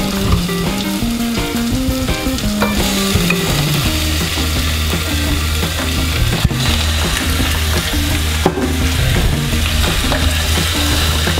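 Chicken and onion sauté in a pan for tinola, a loud, steady sizzle with stirring scrapes throughout, laid over background music.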